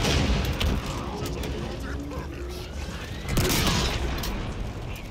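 Rocket explosions and gunfire in the Halo Infinite Firefight mode, a dense continuous barrage of booms and bursts with a heavy swell near the end, under game noise and voices.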